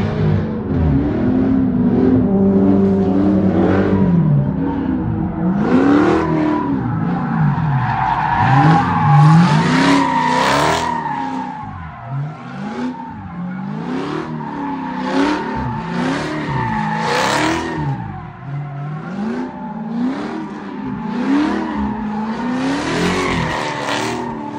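A car drifts with its engine repeatedly revving up and down, wavering in pitch, while tires squeal and skid. It is loud and continuous for about twenty-five seconds, with no speech.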